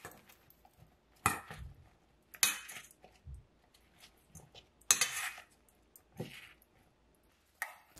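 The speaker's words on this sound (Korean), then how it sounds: "믹싱볼에 넣으시고요. 소금 약간 넣고 올리브오일 둘러 섞어주세요." Ingredients being tossed with salt and olive oil in a mixing bowl for a breakfast dish, heard as a few quiet, scattered utensil clinks and scrapes against the bowl with pauses between them.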